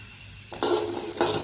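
Onion and garlic drop into a hot pan and burst into a close sizzle, followed by a second surge of frying hiss as they are stirred.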